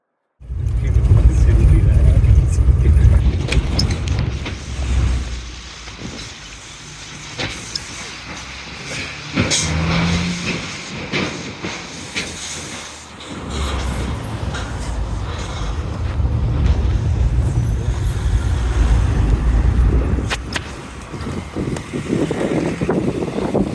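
Bus ride on a mountain road in Nepal heading to Tatopani, heard as a continuous engine rumble and rattling road noise that swells and eases over the ride, with faint voices now and then.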